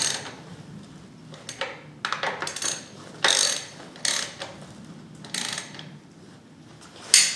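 Ratchet clicking in short repeated bursts while snugging engine mount bolts on a 2010 Mazda 3 2.0L, close and fairly loud with brief pauses between strokes.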